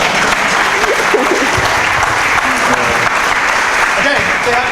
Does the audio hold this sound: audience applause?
yes